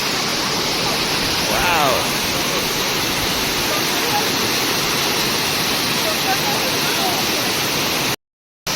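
A waterfall at Elephant Falls, Cherrapunji, roars nearby in a loud, steady rush of water that fills the whole scene, then drops out suddenly at the end.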